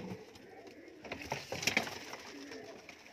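Pigeons cooing at an Indian pigeon sale with many birds kept together, soft low coos repeating close by, with faint talk and rustling around them.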